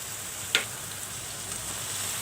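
Eggplant and potatoes frying in oil with a soft, even sizzle and a single sharp clink of a utensil near the start, no talking.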